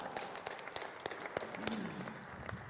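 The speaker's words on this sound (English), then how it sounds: "Give him a nice round of applause" Scattered applause from a conference audience greeting a speaker, uneven claps of moderate loudness with a faint voice rising briefly in the middle.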